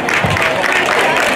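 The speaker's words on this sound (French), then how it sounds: "Applaudissements nourris." Sustained applause from a crowd at a children's Christmas tree party held by a charity in Abobo, a dense steady clatter of many hands filling the short stretch with no break.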